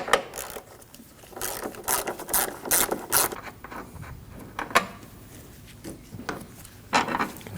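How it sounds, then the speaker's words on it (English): Ratchet with a 13 mm socket backing off the battery tie-down nut on a Chevrolet Colorado, several short bursts of close, crisp clicking separated by pauses. "To remove the battery tie down, we'll use a 13 millimeter and remove the nut."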